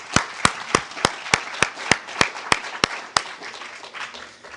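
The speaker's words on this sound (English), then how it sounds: "Can we just have a round of applause for all of these brave folks here?" Slow, evenly spaced loud claps near the microphone over a softer spread of audience applause in a hotel ballroom after a Three Minute Thesis competition, the individual claps stopping while the crowd fades out.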